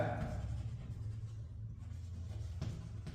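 A pen writes out a seventh-grade algebra question, making faint, soft scratching strokes over a low background rumble, with no talking.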